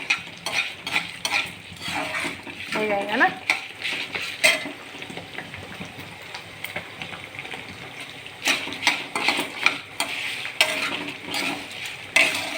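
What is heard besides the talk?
spices being roasted and stirred in a pan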